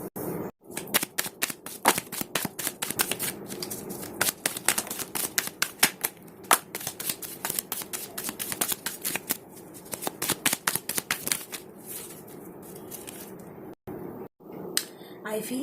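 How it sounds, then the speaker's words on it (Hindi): Tarot cards being shuffled by hand, a rapid, crisp flutter of card riffles and slaps repeating in bursts close up, with short pauses between rounds. "तो चलिए कुछ और कार्ड्स को देखते हैं।"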